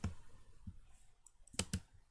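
A computer mouse clicks several times while working in FreeCAD, the clicks crisp and close in an irregular run, two of them coming in quick succession near the end, with no talking.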